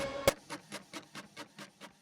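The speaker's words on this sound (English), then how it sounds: "these are all printer sounds." Printer sounds used as samples in a music project: a sharp click, then a regular train of soft mechanical pulses repeating about four times a second, fairly quiet and alone.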